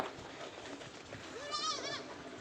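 Goats bleat in a village farm field, a few wavering high calls in the middle and later part, mixed with background chatter and outdoor noise.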